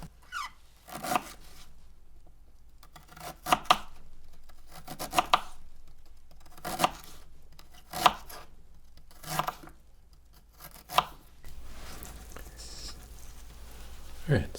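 A knife slices ginger into pieces on a cutting board while mocktails are being prepared: about eight crisp, separate chops spaced a second or so apart, close and clear, followed by a softer rustle near the end.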